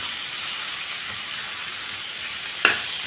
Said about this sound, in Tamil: கீரையும் போட்டு நல்லா வதக்கிடுவோம்.